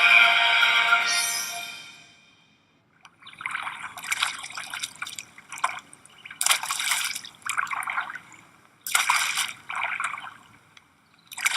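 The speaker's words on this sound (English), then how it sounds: "you're kind of splashing me right now" Water splashes and drips in several irregular bursts, close by, with a rushing swash at the start and brief quiet gaps between.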